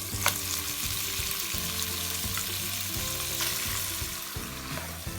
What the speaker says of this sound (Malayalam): ഈ സമയത്ത് നമുക്ക് ചിക്കനൊക്കെ ഇതിലേക്ക് ആഡ് ചെയ്ത് കൊടുക്കാം.